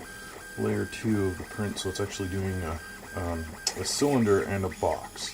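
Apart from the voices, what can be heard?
3D printer printing layer 2 of a PLA print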